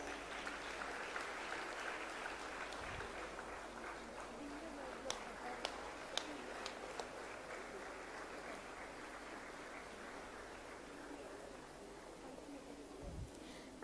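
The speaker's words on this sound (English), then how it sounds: "Kindly give a big round of applause" Audience at an international Ayurveda summit applauds the launch of BAMS ERP software, a steady soft wash of clapping heard from a distance with a few sharper claps standing out.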